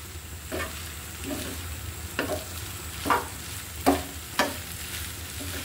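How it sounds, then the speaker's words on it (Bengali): Noodles being stirred in a frying pan over a soft continuous sizzle, with four or five distinct scraping strokes of a utensil spaced a second or so apart, close by and moderately quiet. "আমি একটু ভালো করে মিশিয়ে নিই"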